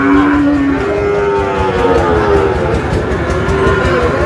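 A loud, drawn-out moo from a young Sahiwal bull calf rings out close by, followed by more lowing calls over a busy, noisy cattle market background.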